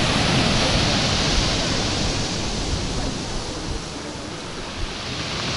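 Stormy sea waves crash against a seaside embankment in Alushta, producing a loud, continuous roaring wash of surf with no pause, steady and close throughout.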